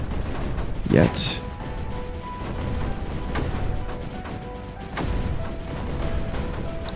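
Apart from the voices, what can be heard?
mortars and cannons firing in video game Creeper World 4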